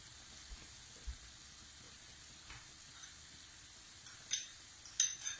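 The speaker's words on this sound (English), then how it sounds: "we've got that really gently frying away" Onions, tomatoes and curry paste gently fry in a pan for chicken tikka masala, making a faint, steady soft sizzle with a few small clinks and taps near the end.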